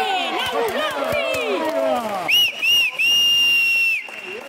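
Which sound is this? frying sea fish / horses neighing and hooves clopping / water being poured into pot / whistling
whistling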